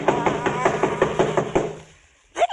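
Hard, evenly paced knocks on a door in a 1940s horror radio drama, about eight close raps in a row, then silence before a voice briefly speaks.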